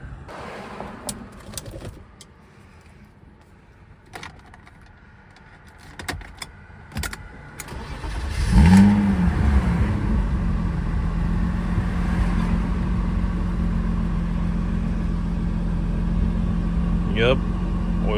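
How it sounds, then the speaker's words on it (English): After an oil change, a car engine cranks and fires at about the halfway point following some light clunks and handling noises, then settles into a loud, steady, close idle that runs to the end. "we're gonna give it its first start since the oil change"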